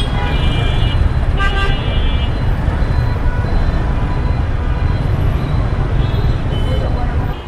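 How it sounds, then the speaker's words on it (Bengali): Heavy street traffic in Bangladesh, a dense roar of engines with several car horns tooting and honking, near and loud throughout. "এই হচ্ছে বাংলাদেশের ট্রাফিক"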